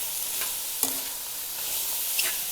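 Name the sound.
vegetables with green chilli frying and being stirred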